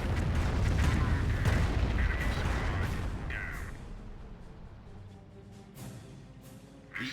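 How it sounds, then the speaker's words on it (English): Rocket barrage on a battlefield in Company of Heroes, US forces against Wehrmacht; heavy booming impacts rumble loudly at first, then fade as scattered sharp blasts follow, with a commentator talking over it. "The rocket barrage running on in."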